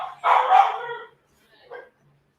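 A dog barks loudly and close by: one long, drawn-out bark followed after a short pause by a single quick, softer yip.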